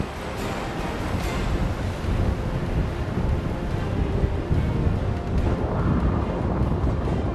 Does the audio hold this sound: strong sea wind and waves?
yes